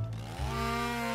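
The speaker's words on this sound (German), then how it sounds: "Vielleicht kann ich die mit der Kettensäge" A chainsaw in a video game starts up and runs at a steady, loud drone with a clear harmonic whine, alone and without talking.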